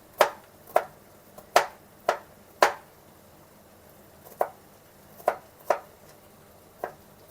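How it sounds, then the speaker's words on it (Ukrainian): A knife taps sharply against a cutting board in about a dozen irregular chops through garlic, close and crisp, with quiet pauses between strokes. "Зараз нарізаю чесник"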